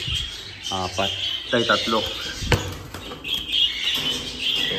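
Breeding cage birds chirp and squawk in short bursts nearby while a person talks over them.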